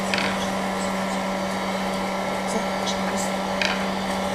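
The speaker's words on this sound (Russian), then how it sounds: "Фен нагревает листок, и у нас получается вот такой закрученный шар." Hair dryer used as a heat gun to warm and curl paper leaves for a flower craft, a steady continuous blowing whoosh with a constant motor hum throughout, close by and fairly loud.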